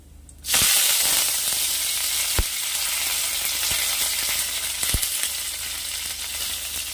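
Curry leaves and split dried red chillies hit hot oil with a sudden loud sizzle that settles into a steady, bright frying hiss, with a few sharp pops.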